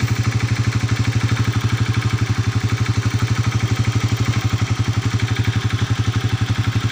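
Honda TMX 125 motorcycle engine running steadily at close range, a loud, even rapid putter with a clattering mechanical tone and no clear rise in revs, with no voices over it.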